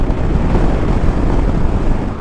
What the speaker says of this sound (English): The wind doesn't bother me near as much here because it's not as bad.